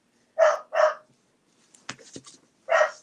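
A dog named Rosie barks at a passer-by walking a dog. There are two quick barks close by, a pause with a few faint clicks and rustles, and then one more bark, with no talking.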